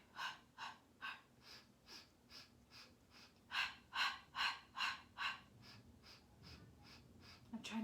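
Rhythmic breathing during a Pilates mat exercise, a steady series of about a dozen breathy puffs, some louder and closer, with no talking.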